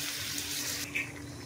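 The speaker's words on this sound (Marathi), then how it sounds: "आणि मग थोडंसं पाणी टाकून त्याला शिजवून घ्यायचं" Water pours into a pan of Goan-style crab curry being cooked, a steady splashing stream that runs for about a second before stopping, followed by a faint clink.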